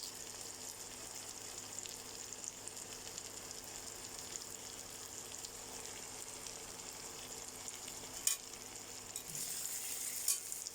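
Two eggs fry in a pan with a quiet, steady sizzle and a couple of brief sharper crackles near the end.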